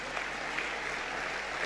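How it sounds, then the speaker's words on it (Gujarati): An audience applauds musicians at an award ceremony honouring Morari Bapu, a steady wash of clapping without breaks throughout. "આ કલાકારો માટે તાળીઓ ખૂટવી ના જોઈએ"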